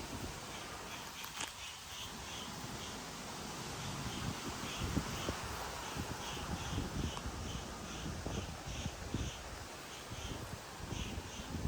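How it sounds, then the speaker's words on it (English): Steady outdoor wind in a backyard garden with a low rumbling buffet and a faint rustle of leaves, continuous throughout with no voices. "It's a windy day"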